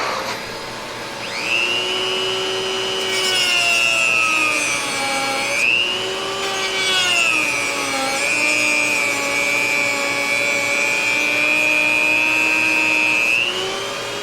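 A shop vacuum runs close and loud for the full stretch, clearing dust while a Fender Telecaster body is being routed for new EMG pickups. Its steady whine shifts pitch now and then as the nozzle meets the wood.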